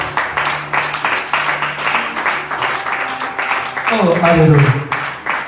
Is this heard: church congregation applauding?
yes